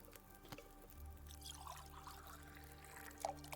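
Water is poured into a pot in The Long Dark survival game, a faint, brief trickle and splash heard on its own at low volume.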